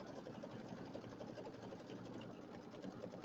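A sewing machine stitches free-motion stippling across a quilt's white background, a steady, close, continuous whirring hum with no pauses.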